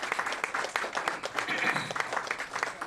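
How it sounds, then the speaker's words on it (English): Audience at a tech event applauding, a short burst of uneven clapping with voices mixed in. "Big round of applause."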